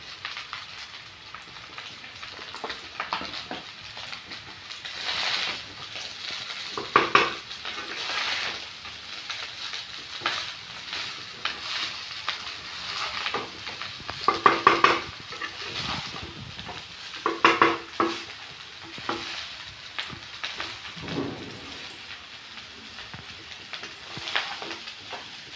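Chicken kosha being stirred and fried in a pan, a soft continuous sizzle with intermittent scraping bursts of the spoon against the pan, no talking over it.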